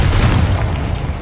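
A Confringo fire spell bursting in the Hogwarts Legacy video game, a single loud, deep boom that rolls and fades over about a second.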